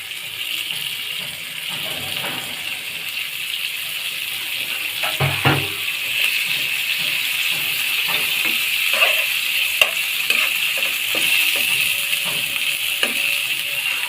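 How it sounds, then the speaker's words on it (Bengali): Chopped tomato, green chili and coriander frying in a pan for cauliflower bharta, a steady close sizzle with a few soft stirring knocks. "টমেটো আর ধনে পাতা কুচি দিয়ে আমি ভালোভাবে ভেজে নেবো"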